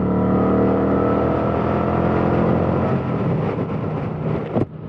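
Kawasaki Vulcan 900 motorcycle engine running steadily on a cold ride past whitecapped water, a loud continuous low rumble with a brief sharp gust near the end.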